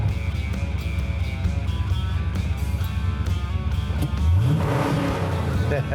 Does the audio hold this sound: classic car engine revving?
yes